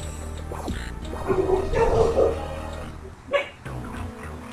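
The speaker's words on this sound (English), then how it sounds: "my dogs barking in the background, if you could hear that" Dogs bark in the background, a few faint yips and woofs under game music and sound effects.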